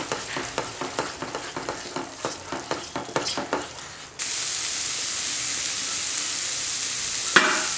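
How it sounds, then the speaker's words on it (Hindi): Masala spices roasting in a pan for a potato and onion curry with Kashmiri red chilli and salt: a run of quick close scraping stirs, then a loud continuous sizzle that ends in a brief sharp hiss. "फ्रेंड्स, ये मसाला अच्छे से रोस्ट हो रहा है।"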